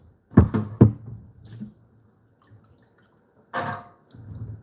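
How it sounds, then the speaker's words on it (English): Soaked navy beans are drained in a kitchen, with a few short splashing gushes of water and drips, then a pause and another brief pour, close and fairly quiet with no talking. "Or wash, drain the water."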